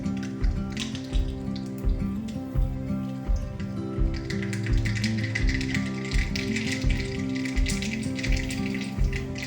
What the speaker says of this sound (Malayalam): 1 സ്പൂൺ കടുക് പൊട്ടിക്കുക